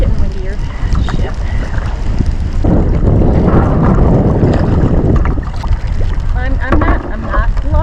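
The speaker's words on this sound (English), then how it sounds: "Oh, yeah, it's getting windier." Strong wind buffets the microphone with loud, continuous roaring gusts while a canoe is paddled solo on a lake in fall. Water splashes and the hull knocks occasionally beneath the blustery noise.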